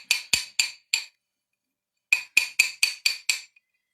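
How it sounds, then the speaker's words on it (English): A chasing hammer taps a small metal earring piece, a quick run of four sharp metallic strikes, a pause, then a faster burst of about six more, close and crisp with no talking. "And I'm just going to tap this a little bit."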